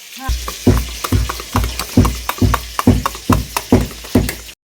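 Banana flower (mocha) frying in a pan while being stirred, with a steady sizzle under a regular series of scraping strokes, about two each second, close and fairly loud.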